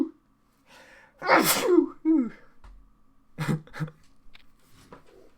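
A poker final table commentator lets out a sharp, close sneeze preceded by a quick inhale, followed by a few short breaths and mutters at low level.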